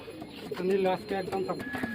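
Pigeons at a wholesale farm, including a pair of feather-footed birds, cooing in low repeated bursts while people talk nearby throughout.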